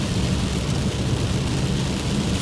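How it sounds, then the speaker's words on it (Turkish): Heavy rain pours steadily and loudly as a broad, unbroken wash of hiss with a low rumble underneath, constant throughout with no voices. "Bayağı bir yağmura yakalandım. Çok yağmur yağıyor."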